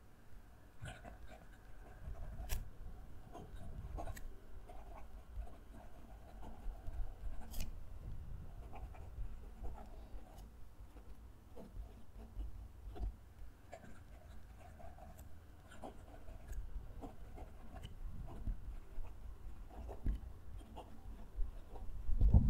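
A fountain pen nib, Cross Bailey Light or TWSBI Eco, scratching across paper while writing a sentence, faint close scritching strokes with small taps and pauses, quiet and steady with no talking.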